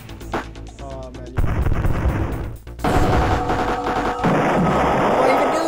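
Spaceship cannon fire in the space combat game The Ur-Quan Masters: loud, sustained bursts of rapid shots and blasts, with a brief pause between volleys.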